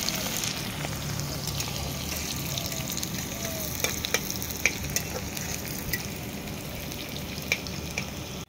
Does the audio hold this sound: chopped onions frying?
yes